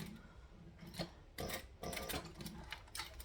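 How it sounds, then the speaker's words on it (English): A sewing machine pushes through many thick layers of vinyl in short, laboured bursts with rubbing, ticking mechanical noise, close up and fairly quiet, with pauses between the runs. "I know that this machine doesn't like stitching through this many layers of this particular vinyl."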